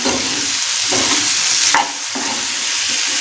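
Ivy gourd stir-fry is stirred and fried in a pan: a constant loud sizzle runs throughout, broken by repeated scraping strokes of a spoon against the pan at an uneven rhythm.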